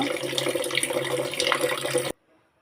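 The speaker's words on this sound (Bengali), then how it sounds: "এখন আমি যে চাউল বের করে নিছি চাউলটা প্রথমে ধুয়ে নিব" Rice being washed in running tap water at a kitchen sink: a steady, close splashing rush of water for about two seconds that stops abruptly, leaving near silence.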